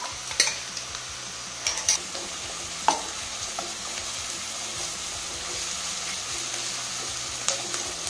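Green chili paste frying in a pan on a medium flame, a continuous soft sizzle broken by a few sharp clinks and scrapes of stirring, close up and with no voices.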